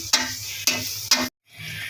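Onions fry in the oil left over from frying okra, a steady sizzle punctuated by three sharp stirring scrapes, then a brief dropout before the sizzle resumes.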